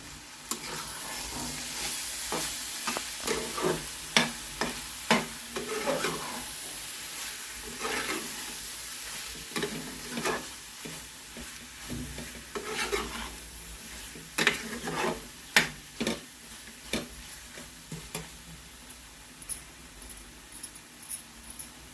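A prawn fry with coriander powder is stirred in a pan, with rhythmic scraping and utensil knocks over a continuous sizzle, close and clear with no talking.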